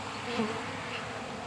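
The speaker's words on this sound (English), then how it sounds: "These bees here, they're climbing in this hive next to it." Honey bees buzz steadily around a hive in early spring, a hive with a drone-laying queen, making a soft, continuous insect hum with no talking.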